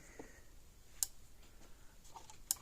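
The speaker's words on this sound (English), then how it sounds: "Hear it clicking along." Repaired Patriot PMX350 electric fence energizer ticking out pulses, two sharp isolated clicks about a second and a half apart over a faint quiet background, close by.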